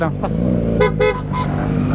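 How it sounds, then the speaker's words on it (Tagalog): Several car horns toot together in short bursts over idling engine noise in stopped traffic, with people talking nearby. "Sabay-sabay busina."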